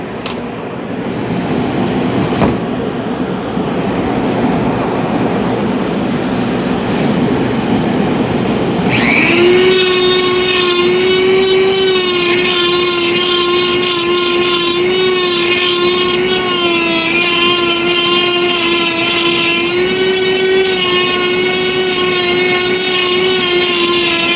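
A power grinder carves a wooden Christmas tree: quieter handling noise first, then the motor spins up near the ten-second mark and holds a loud, steady whine with slight pitch dips as it bites into the wood.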